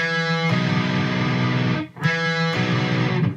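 A heavily distorted electric guitar hammer-on played too hard rings out in loud, sustained bursts, with a brief dip in the middle before the grinding tone returns.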